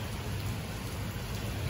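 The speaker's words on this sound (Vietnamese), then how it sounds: "cơn mưa rất là lớn" Heavy rain falling at night on a road, a loud dense continuous hiss of downpour with no breaks, heard close and alone without voices.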